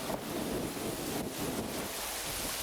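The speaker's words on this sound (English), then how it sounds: "The wind gusts really made this challenging. That shaking you hear" Strong wind gusts buffet and shake a 5.1 surround microphone rig on its stand outdoors at night, a steady loud rumbling roar with no talking.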